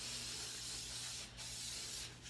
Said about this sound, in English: This is the first time you're ever gonna see me spray something like this in my hair.